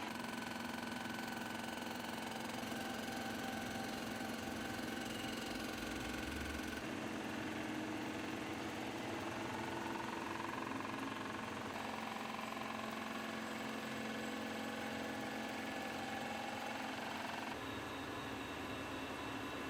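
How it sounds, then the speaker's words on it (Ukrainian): A steady mechanical drone of a cylinder head surface grinding machine running continuously, with a constant whine and low rumble and no voices. "Шліфування площини виконується на всіх типах і розмірах головок блоку циліндрів"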